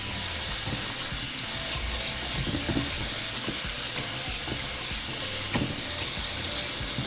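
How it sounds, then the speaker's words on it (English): Pre-cooked hominy for red pork pozole rinsed under running tap water, a steady broadband splashing wash with occasional louder clatters of kernels and bowl, close and continuous with no talking. "So now we're just going to give it a good rinse."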